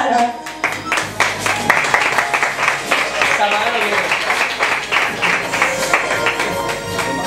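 Audience clapping at a singing gala welcomes a performer, a busy spread of handclaps mixed with music and chatter, moderately loud throughout.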